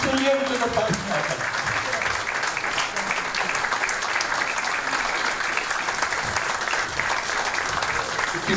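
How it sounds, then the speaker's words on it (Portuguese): Sustained applause from an audience at a Portuguese variety revue show in Peniche, a dense loud wash of clapping throughout, with a brief voice or musical tone audible at the very start. "É para eles que eu quero uma grande salva de palmas."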